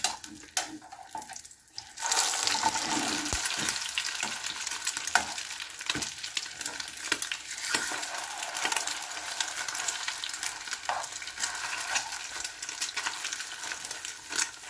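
Sardine omelette frying in a pan, a steady bright sizzle that starts sharply after a quiet opening and continues evenly, close up, with occasional light clicks of utensils and no talking.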